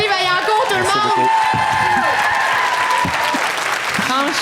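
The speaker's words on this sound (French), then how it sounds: "On applaudit Simon Boisvert, Rosalie Vaillancourt, tout le monde!" Live comedy audience at a show in Brossard applauding steadily and loudly, with cheering, whoops and a host's voice talking over the clapping throughout.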